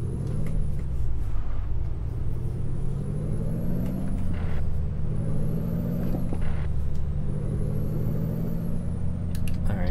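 A truck engine in American Truck Simulator revs with a steady low rumble and rising, falling pitch sweeps, loud and continuous with no talk.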